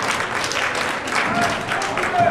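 A crowd at a wrestling match in Bay City applauds, steady scattered clapping that runs throughout beneath a commentator's voice.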